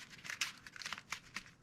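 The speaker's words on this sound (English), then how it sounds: "Pinch it and fold it over." Adhesive tape pinched and folded over the edge of a cardboard dagger blade, giving a quick series of soft, close crinkling and crackling bursts with no talking.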